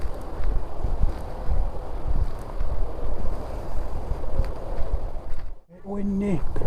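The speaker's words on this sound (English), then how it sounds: "Look at it, wind in trees." Wind gusts through trees on a countryside walk among fruit trees, a surging, rustling rush that rises and falls, cut short near the end as a person begins to speak.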